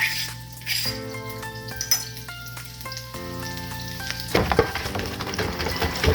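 Peppers frying with onions in a pan, a close bright sizzle that crackles and grows louder as the vegetables are moved.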